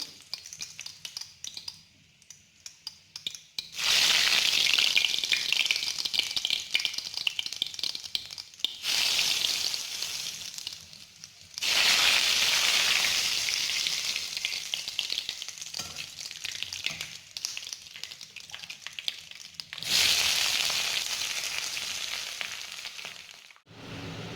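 Two dried red chillies hiss and sizzle in hot oil in a kerahi wok, the frying crackle rising in three loud bursts separated by quieter lulls, with no talking.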